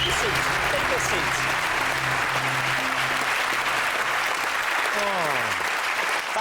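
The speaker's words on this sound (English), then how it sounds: "give them both a round of applause" A British television studio audience gives loud, continuous applause after a contest, a thick wash of clapping heard close and full, with someone talking over it and a descending musical sting near the end.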